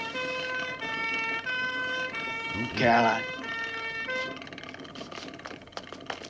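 An ambulance siren wails in a steady two-tone pattern, with a person speaking briefly over it midway.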